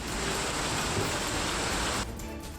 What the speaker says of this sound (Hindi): तस्वीरें वापी की हैं, जहां कई घंटों तक जमकर बारिश हुई।